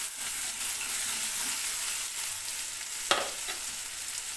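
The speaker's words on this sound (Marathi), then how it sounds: "हलवत राहा जरा, ते थोडं थोडं हलवत राहा" Fish curry mixture for Katla fish curry sizzling and frying steadily in a pan, with a brief sharp scrape of stirring near the end and no voices.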